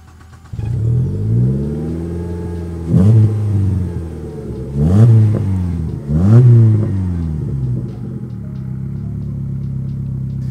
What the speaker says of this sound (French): apprécier la sonorité de ce moteur Plus 4 GDI avec sa ligne complète en inox